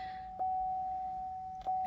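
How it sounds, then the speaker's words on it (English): A car's door-open warning drones continuously throughout, a single sustained beep-like chime, moderately loud with faint background noise. "you're gonna be hearing that annoying beeping noise for a second here"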